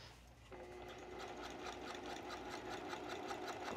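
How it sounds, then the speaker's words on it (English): Domestic sewing machine stitching along the facing edge of a dress neckline, starting after a brief pause then running in a fast, even mechanical patter, close and fairly quiet, with no talk. "I'm stitching along this edge here of the facing, and I'm stitching and closing that seam allowance."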